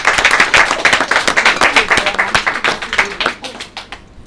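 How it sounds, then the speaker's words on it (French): A small group at a dinner claps for a guest, close and fairly loud, the individual hand claps distinct and rhythmic before trailing off at the end, with a little talk mixed in. "Et on l'applaudit."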